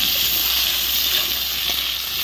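Four potatoes fry in hot oil in a pan and get stirred, producing a steady bright hiss and crackle with soft scraping movements underneath.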